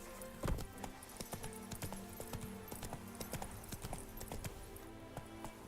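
Horse hooves galloping in a video game make a rhythmic, steady clip-clop of repeated hoof strikes at moderate volume, with a sharper thud near the start.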